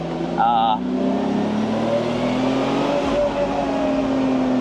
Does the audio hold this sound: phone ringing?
no